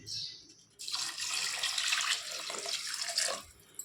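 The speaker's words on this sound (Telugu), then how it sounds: "ఇప్పుడు దీంట్లో వాటర్ వేసేసుకుందాం" Water pours in a steady rushing stream into a pot while cooking ivy gourd pulao, starting abruptly after a brief quiet moment and splashing continuously until it tapers off.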